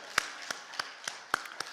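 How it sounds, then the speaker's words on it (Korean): A church congregation applauds as the pastor comes forward, sparse distinct claps at a loose steady pace, close and moderately loud, with no other sound between them. "목사님 나오실 때 할렐루야로 하나님 앞에 영광의 박수 올려드립니다."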